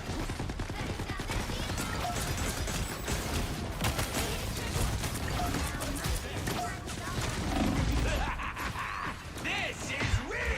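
Dense rapid gunfire and explosions from the video game Marvel Rivals rattle continuously over a busy battle mix, loud and close, with a heavier blast near the end.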